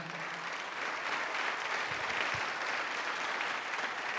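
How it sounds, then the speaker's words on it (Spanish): A church congregation applauds during a Spanish-language worship sermon, a full, even roar of many clapping hands filling the room, with a couple of low thumps partway through. "dale un aplauso al Señor."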